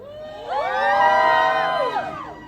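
A crowd at a summit speech shouts and whoops back in a loud rising roar that swells, holds for about a second, then fades away.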